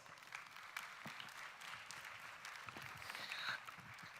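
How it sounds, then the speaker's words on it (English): An audience at an annual development-bank meeting applauds to welcome a guest onstage, a soft, distant wash of many hands clapping throughout, with no speech over it. "Please welcome Selina with a round of applause."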